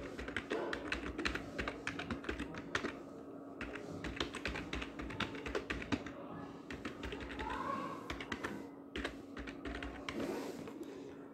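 Quiet, rapid clicking of a computer keyboard as login details are typed in, irregular bursts of keystrokes with short pauses, close by over a faint steady hum.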